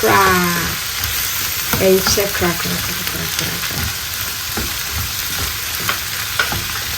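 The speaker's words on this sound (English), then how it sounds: "Stir everything in." Chickpeas and kidney beans stirred into a warm garri salad in a hot pan, loud close frying sizzle with scraping strokes, and a voice speaking briefly at the start.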